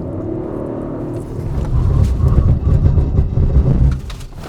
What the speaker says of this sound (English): We'll see how quickly we can get from 100 to 0 with shit on the wheels.